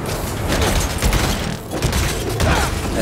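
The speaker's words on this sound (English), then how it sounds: "Explosion." A dense, rumbling burst of blasts and crackling debris from the video game Spider-Man 2 fills the clip, loud and continuous with a brief dip in the middle.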